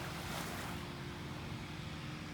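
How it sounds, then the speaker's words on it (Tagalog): Surf rolling onto a beach in Dubai, a steady broadband wash of waves with wind buffeting the microphone throughout. "andito ako ngayon guys sa tabing dagat"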